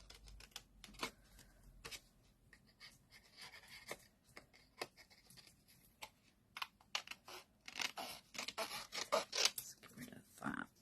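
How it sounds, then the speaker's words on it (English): Scissors snip through card, cutting out Christmas craft shapes with straight lines, a faint close series of crisp irregular cuts that grows busier and louder toward the end. "these are easy to cut out."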